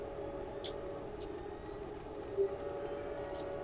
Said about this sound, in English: I just heard the train.